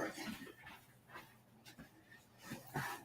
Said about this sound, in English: my dog is whining, so I need to let him in the room